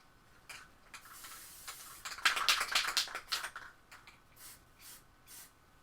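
Short hissing bursts from a can of clear matte spray, several light puffs with a longer spray in the middle, fairly faint in a quiet room.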